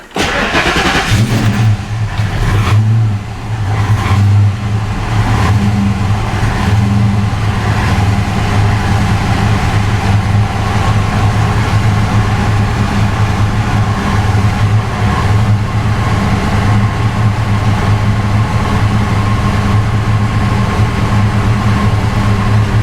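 A Fox Body Mustang engine idles loudly right after a cold start, holding a high idle with a slight wavering surge throughout and no talk over it.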